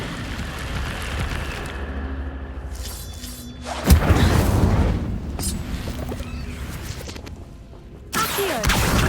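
A burst of roaring, whooshing fire from the Incendio spell in Hogwarts Legacy, with a heavy thump at the start, a sustained rush that fades, and a second burst at the end.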